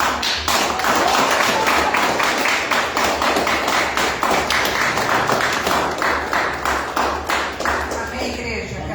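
Church congregation at a Sunday service clapping in a steady rhythmic pattern, loud and sustained, with sharp repeated hand claps filling the room and voices mixed underneath.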